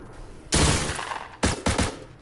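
Gunfire in a video game: a loud opening burst of shots, then after a short gap two more sharp close bursts in quick succession, with no voices.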